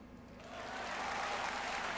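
Audience applause in the Steins;Gate Zero visual novel, a dense crowd clapping that swells over the first half-second and then holds steady and loud without a break.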